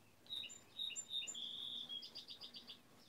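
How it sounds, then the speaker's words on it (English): Birds chirp outdoors on a summer day, with faint repeated high tweets and short trilling calls in a quiet, distant setting. "Can you hear all the birds? Don't they sound pretty?"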